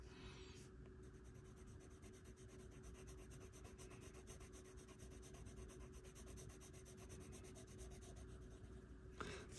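A Faber-Castell Polychromos colored pencil shades an acorn on paper, giving a soft, steady scratchy rubbing of close strokes that runs without pause and stays faint throughout.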